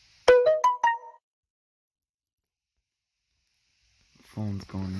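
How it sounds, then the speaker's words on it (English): A phone ringtone plays a quick run of bright, melodic tones, then stops; after a silent gap a voice speaks. "Phone's going nuts."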